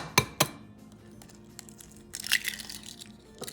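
Eggs are cracked against a bowl: two sharp close cracks, then a pause and a busier crunching, clinking burst as shells break and contents drop into the bowl, with no voices.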